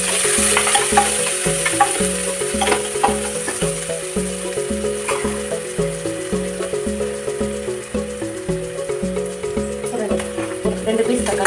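Vadagam and onions frying in hot oil in a kadai, a continuous soft sizzle and crackle under a steady rhythmic background hum.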